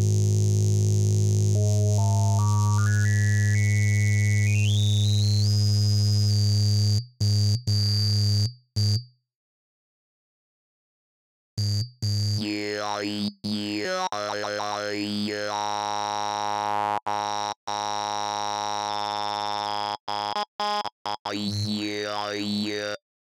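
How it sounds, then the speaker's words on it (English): A modular synthesizer filter bank produces a gritty, bit-crushed tone: a sustained buzzing drone with a rising stepped pitch, then a brief silence, followed by choppy, warbling sweeps with abrupt cuts. "as you can hear, it gives it almost this kind of bit crusher-like quality"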